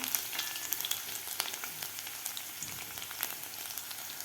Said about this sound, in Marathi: आता लसूणसुद्धा आपल्याला 2 मिनिट व्यवस्थित परतून घ्यायचं आहे